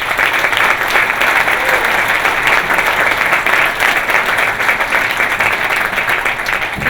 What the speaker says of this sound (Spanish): Así que un aplauso a todos ustedes